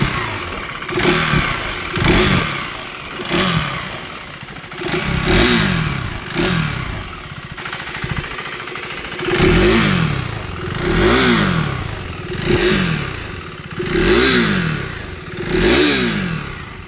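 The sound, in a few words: KTM Duke 390 motorcycle engine exhaust note revving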